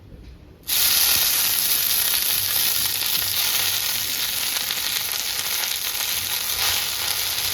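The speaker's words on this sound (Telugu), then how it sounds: "ఇప్పుడు పుదీనా ఫ్రై చేసుకుందాం" Mint leaves hit a hot pan and break into a loud, steady sizzle that starts abruptly after a brief quiet moment and keeps up evenly, close by.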